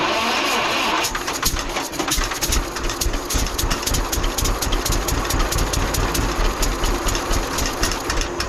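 A 1946 John Deere BN tractor engine cranks over and catches, then runs on loud and steady with a rough, pulsing chug that fills the rest of the clip.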